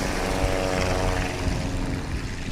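A STOL airplane at full throttle for takeoff roars with a dense, steady propeller and engine drone, loud and continuous at an airfield in Creswell, Oregon.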